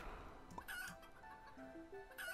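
Chickens in the video game Planet Centauri give a few short clucks and squawks, fairly faint, over a quiet game background.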